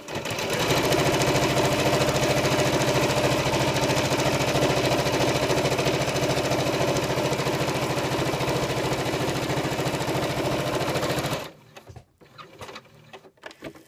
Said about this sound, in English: So I'm going to continue stitching right now and see if I can blast through this really quick here.